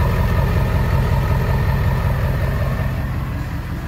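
A car engine idles steadily after being jump-started from a truck battery, a loud, continuous low rumble with no talking, easing slightly toward the end.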